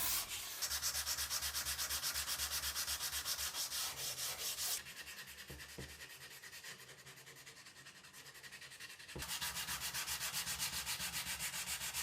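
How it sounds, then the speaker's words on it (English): Steady back-and-forth sandpaper rubbing on a wooden bass guitar neck, a dense rhythmic rasp close up that eases briefly in the middle before resuming strongly. "I'm only going to have to sand this with probably 240 grit and then 320"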